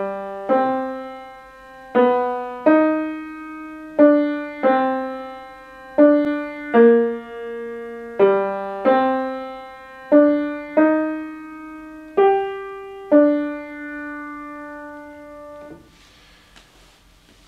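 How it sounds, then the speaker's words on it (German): A chorale-like opera chorus sung by the Anabaptists, heard as a steady succession of sustained, evenly paced chords, each note held about a second, loud and clear with no talking. "Die Wiedertäufer singen dieses Stück an der Stelle und machen das auch im Verlauf der Oper mehrere Male wieder"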